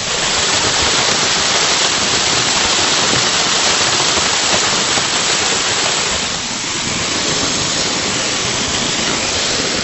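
Roar of the Cascade des Quaires waterfall, a loud, steady broadband rush of falling water heard close up and unbroken throughout.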